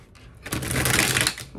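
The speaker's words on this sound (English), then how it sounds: "me to shuffle the cards real good for you guys" Tarot cards are riffled in one quick burst of dense crisp flutter lasting about a second, close to the microphone.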